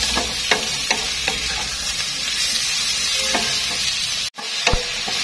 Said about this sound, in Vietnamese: Cho nấm vào mình xào sau khoảng vài phút cho nó thơm lên.